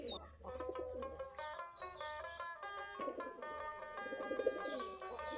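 Domestic pigeons of a local breed coo repeatedly in a steady, close chorus while bathing, eating and drinking, with soft layered calls overlapping throughout and faint chirps mixed in.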